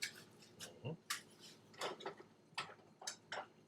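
Vegan apple pie ingredients are mixed in a bowl, with a string of sharp utensil taps and scrapes against the dish at an uneven rhythm, close but quiet, with a brief low voice in between.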